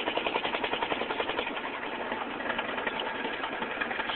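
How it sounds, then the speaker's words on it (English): A pump runs steadily throughout a vacuum test, giving a continuous mid-pitched mechanical drone with a fast, regular pulsing rhythm, close and fairly loud, with no talking. "Pump is running."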